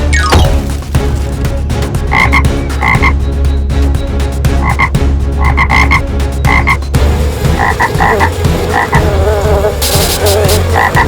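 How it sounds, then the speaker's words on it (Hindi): Frogs croak near a pit in an animated story scene, a loud, steady chorus of repeated pulsing croaks with buzzing insect-like tones, continuous throughout and with no talk. "गड्ढे के पास पहुंचकर मेंढक टर टर करने लगे।"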